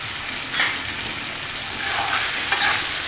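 Chicken dry fry being stirred in a hot pan after garam masala goes in, with a steady close sizzle and two sharper scraping stirs against the pan.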